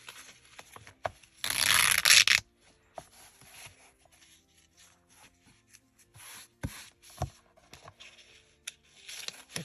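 Fabric being cut for junk journal pages gives one loud, rasping cutting stroke lasting about a second, followed by scattered small snips and clicks in a quiet room.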